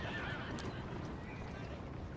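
A horse neighs and whinnies in the video game Assassin's Creed Syndicate amid steady background noise, with faint hoof clopping; the sound is compact and processed rather than natural.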